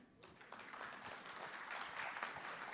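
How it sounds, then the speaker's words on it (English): An audience at a 20th anniversary event for the Marshall Decision applauds the panelists. The applause starts abruptly and swells into sustained, dense clapping heard from a distance. "let's give everybody a round of applause"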